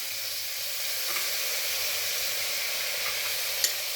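Long strips of eggplant frying in oil in a pan of sautéed onions, giving a steady, even sizzle and hiss throughout, with a faint clink near the end.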